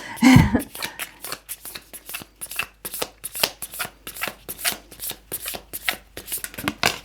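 A deck of oracle cards shuffled by hand at a table, a steady run of quick crisp riffling flicks in close succession after a short opening thump, close and clear.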